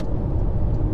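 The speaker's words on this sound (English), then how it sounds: "So here's our opportunity to overtake this vehicle with the third of the overtaking lanes" A car overtakes another vehicle in a highway overtaking lane, with a steady, close engine and road rumble that stays continuous and fairly loud throughout.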